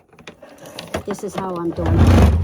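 A Kenmore sewing machine runs after a short stretch of talk, building into a loud, steady mechanical whir that fills the final half-second. A person speaks over the quieter opening.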